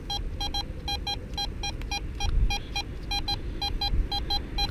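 Maclean MCE940 metal detector giving a repeated bright electronic signal tone, a steady series of short pulsed beeps over rustling ground noise outdoors at dusk.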